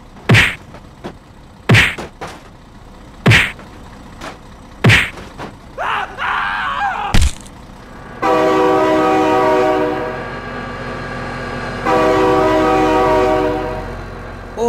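A train in a driving simulation game passes close with loud sustained horn blasts, preceded by a series of heavy thumps and clanks of rail cars, with no talking.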